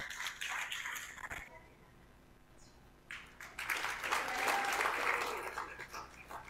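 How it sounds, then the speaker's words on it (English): Clapping from the audience at the African Australian Awards, in two bursts: an opening round that fades to a lull, then a louder, fuller round of applause building up again. "give him a round of applause there"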